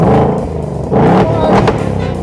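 A 2024 Ford Mustang GT V8 fires up by remote start, a loud close engine rumble that surges into a harder rev about a second in, then settles into a throbbing idle.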